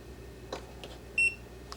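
A digital multimeter gives a single short, clear electronic beep as it powers on, faint clicks around it in a quiet room.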